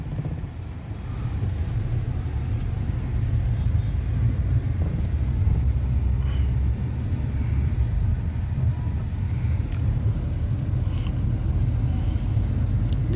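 Steady low road rumble from a Kia Sonet HTK (O) SUV driving along the road, heard from inside the cabin as a continuous, even drone with no talk.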